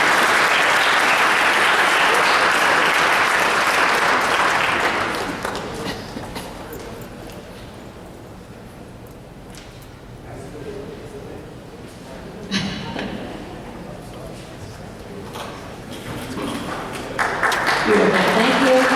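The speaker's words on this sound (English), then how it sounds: "let's give them a nice round of applause, please" Clapping from a school board meeting audience honoring students opens loudly, fades into quieter room noise with scattered voices and shuffling, then swells again near the end.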